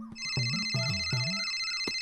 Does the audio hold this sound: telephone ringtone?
yes